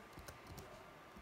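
Keys clicking on a computer keyboard, a short run of quiet, light taps typed alone with no talking.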